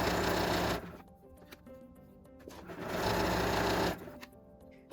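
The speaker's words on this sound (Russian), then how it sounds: "прокладываем вот так вот строчку зигзагом близко к фестону" A sewing machine runs a zigzag stitch along elastic near a scalloped edge, width 3.5 and length 2, in two sustained bursts of loud, steady motor whirring and needle clatter separated by a quieter pause.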